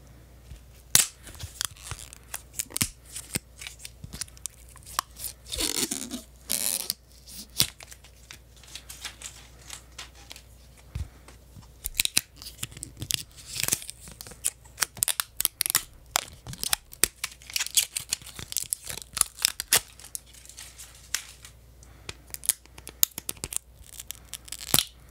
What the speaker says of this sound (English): So, let's take this plastic stuff off.